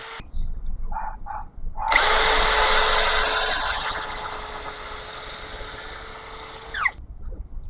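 Tanzu 10mm metal chuck cordless drill: a couple of short trigger blips, then a loud, steady high-pitched whine running for about five seconds before stopping, heard up close.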